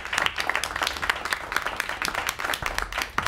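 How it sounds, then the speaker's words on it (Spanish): Audience applause for a performer, a smallish group clapping in uneven, distinct claps that carry steadily through the moment. "quiero un aplauso para mi amigo"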